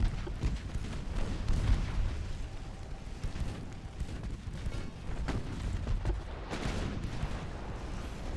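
Warship guns in an 1895 Russia-versus-Britain naval battle in Ultimate Admiral Dreadnoughts rumble steadily, with dull booming salvos and distant thuds layered over constant low battle noise, and no clear speech.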